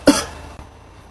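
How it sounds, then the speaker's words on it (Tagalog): A single sharp, close cough bursts out, then fades into a quiet room with a faint second thump. "Totoo na ba tong ubo nyo o pinipeke nyo pa din?"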